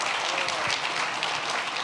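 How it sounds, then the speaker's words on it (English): Steady applause from an audience at a fireside chat event, a dense wash of clapping hands holding level and loud for the full two seconds with no speech over it. "Big round of applause."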